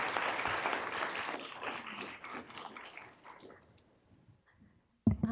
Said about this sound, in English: Can we give Joanna a round of applause?